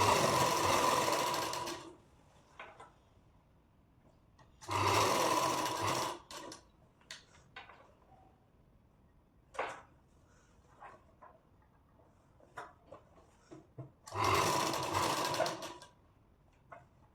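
Sewing machine stitching a princess cut deep neck blouse, three short loud bursts of close whirring separated by quiet gaps filled with faint handling clicks, no talk.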